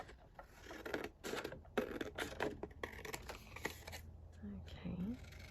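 Scissors cutting a sheet of paper in half, a run of close, crisp snips and scraping rustles in quick succession, with brief soft voice sounds near the end.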